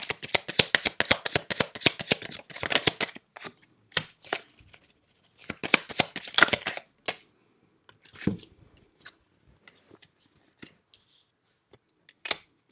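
Tarot cards are riffled and shuffled in dense, crisp bursts of flicking clicks up close, then separate cards are drawn and laid down as sparse single snaps and taps.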